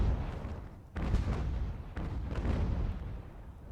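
Cannon fire from sailing warships in the naval battle game Ultimate Admiral: Age of Sail, a rolling series of deep booms and rumbling blasts, two or three heavier reports over a continuous low roar, with no talking.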